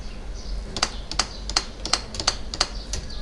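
Keystrokes on a computer keyboard, about a dozen distinct sharp clicks in an uneven rhythm, close and fairly quiet, with no talking.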